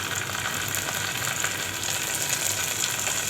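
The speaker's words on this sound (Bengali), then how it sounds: "এখন এই তেলের ভিতরে আমি আদা রসুনটা একটু ভেজে নেব" Ginger-garlic paste frying in hot oil in a pan, a steady bright sizzle with no talk.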